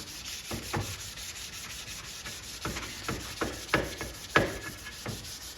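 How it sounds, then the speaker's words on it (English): Rough power-sanding strokes on metal arcade cabinet parts scrape in irregular bursts, each a short gritty swipe, close by with a low background hiss. "I'm gonna go ahead and keep sanding these"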